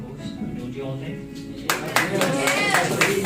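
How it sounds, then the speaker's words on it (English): Audience round of applause for the host at a literature and philosophy event, bursting in midway after a speaking voice and continuing as steady, moderately loud clapping from a seated crowd. "I think our host, she deserves a big round of applause."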